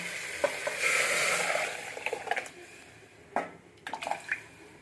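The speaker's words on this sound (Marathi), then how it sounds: "बघा, आता मी याला फोडणी देणार।" Spices sizzle in hot oil as toor dal is tempered in a home kitchen, a close hissing burst that fades, followed by a few clinks and stirring scrapes.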